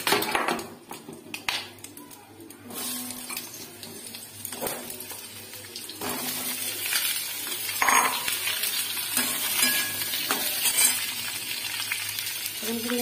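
Potato pieces fry in hot oil in a wok, giving a continuous loud sizzle broken by scraping stirs and occasional clinks of a metal utensil against the pan.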